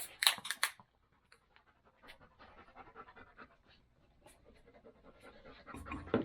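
Farley the dog pants rapidly and close, in quick breathy bursts, with faint scratching and shuffling between the breaths and a louder patch near the end.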